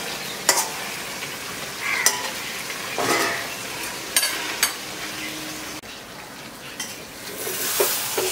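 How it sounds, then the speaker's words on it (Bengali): Chicken and potatoes are stir-fried in a pan, with a steady sizzle broken by scraping strokes of a spatula and a few sharp clinks against the pan. "এবার মাংস আলু দিয়ে আমি ঢাকা দিয়ে রাখবো, আস্তে আস্তে কষাতে থাকবো।"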